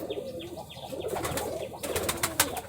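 Pigeons at a colourful pigeon farm in Rajshahi, including a pair of red birds, cooing softly amid chirps, scuffling and brief wing flaps.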